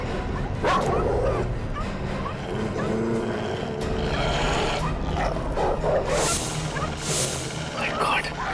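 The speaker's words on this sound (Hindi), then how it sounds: "बहुत कुत्ते।" Several dogs bark, yip and whimper in a TV crime drama scene, with repeated barks over a continuous background and voices mixed in.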